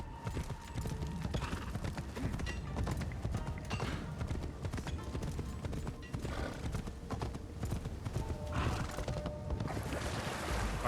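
A horse gallops in the video game Assassin's Creed Shadows on Nintendo Switch 2, its hooves sounding a quick, continuous clip-clop close up, mixed with creaks and other game effects that swell near the end.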